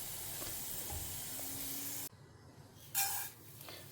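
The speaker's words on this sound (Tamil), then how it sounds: "உளுத்தம்பருப்பு வத்த மிளகா கருவேப்பிலை எல்லாத்தையும் நல்லா செவக்க வறுத்துண்டுடலாம்" Urad dal, dried red chillies and curry leaves sizzling in hot oil in a home kitchen, a steady broadband frying hiss for two seconds that cuts off, followed by quieter bursts of sizzle as the pan is stirred.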